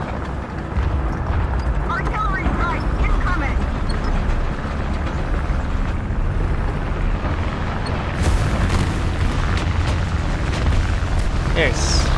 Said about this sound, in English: Artillery strike incoming!